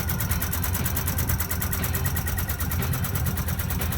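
A bus engine idles with a steady, continuous mechanical rumble and rapid, even ticking, close and loud throughout, with no talk over it.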